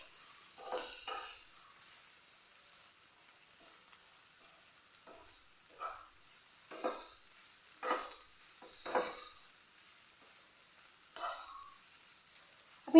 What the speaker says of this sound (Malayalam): ഇനി ഇതിലേക്ക് നമ്മൾ അരിഞ്ഞെടുത്ത നമ്മുടെ മല്ലിയില, പിന്നെതാ നമ്മുടെ കാബേജ് ജസ്റ്റ് ഒന്ന് ചൂടാക്കി ഇഴത്താൽ മതി.